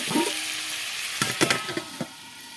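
Jackfruit seed curry sautéed in a pan gives a soft, steady sizzle, with a few sharp scraping strokes of a spatula near the end, close and moderate in level.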